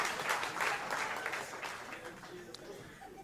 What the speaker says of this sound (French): une bonne main d'applaudissement